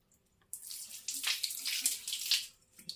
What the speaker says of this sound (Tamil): இந்த பைப்பில் தண்ணி எவ்வளோ ஃபோர்ஸாக வருதுன்னு பாருங்கள்